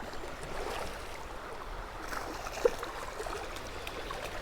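Rushing water of rapids on an Ohio creek: a steady, broadband wash of flowing water, close and continuous, with a faint splash partway through.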